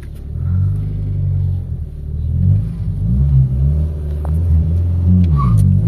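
A car engine runs on a test drive after a clutch set upgrade, a low, steady rumble close by that swells slightly as it picks up revs, with faint rattles on top.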